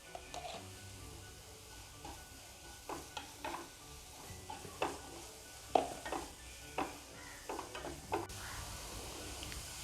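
Onions with turmeric powder sauté in a pan, a soft background sizzle broken by intermittent spatula scrapes and clinks against the metal, fairly quiet and close.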